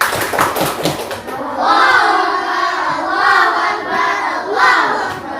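A primary school class claps hands together in a lively, sustained burst, many small hands patting at once while children's voices and chatter rise over it throughout.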